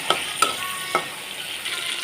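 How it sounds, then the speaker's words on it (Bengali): Steady frying hiss of eggplant with turmeric and salt fills the pan, broken by a few sharp clicks of a utensil against it; no one speaks. "আমি একটু হলুদ লবণ দিয়ে বেগুনটাকে একটু ভালো করে ভেজে"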